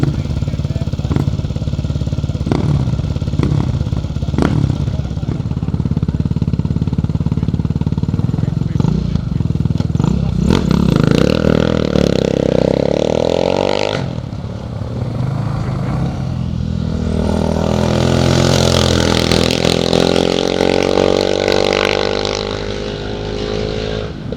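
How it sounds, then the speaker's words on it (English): A KTM 660 motorcycle climbing at a hillclimb event, its engine revving loudly and continuously close by, rising and falling through gear changes, with a commentator talking over it. "riding his KTM 660"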